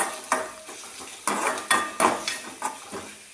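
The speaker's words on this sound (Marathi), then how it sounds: "त्याला छान असं परतून घ्यायचं आहे" A utensil stirs cucumber and onion sautéing in a pan, making sharp, irregular clinks and scrapes against the metal over a light sizzle, close by and with no talking.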